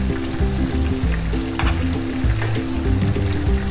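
Turnip greens fry in a pan with a loud, dense, continuous sizzle and crackle, heard up close over steady tonal background music.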